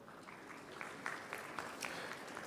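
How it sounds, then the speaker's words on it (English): An audience at a university convocation for electrical engineering students claps, a moderate, fairly distant patter of many hands that swells slightly and carries on steadily. "Can we get a lot more applause for all the students?"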